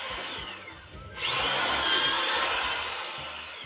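A power drill bores into a wall with tape stuck below to catch the falling dust. A steady, whining grind swells louder partway through and holds, close and continuous.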